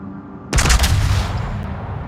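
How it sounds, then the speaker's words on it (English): The battleship New Mexico fires its guns in World of Warships: a single heavy, booming salvo erupts after a half-second lull, then trails off into a long, deep rolling rumble. "he's just fired his guns right there."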